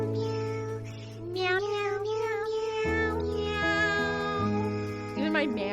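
A person imitates a cat with a series of drawn-out, wavering meows, loud and close, with no talking.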